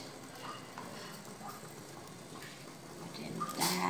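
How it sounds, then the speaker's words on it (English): Fish goes into a pot of boiling fish soup with malunggay, a soft continuous bubbling and sizzling simmer with faint splashes and small clinks, building to a brief louder splash at the end. "I'm gonna put in my fish because it's already boiling nicely"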